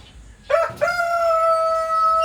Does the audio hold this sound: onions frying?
no